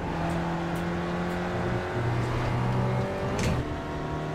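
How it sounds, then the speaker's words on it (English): A Spec Racer Ford race car engine revs high in a continuous loud drone, its pitch holding and shifting slightly as gears change, with no talk over it. "Pretty high revs for this car."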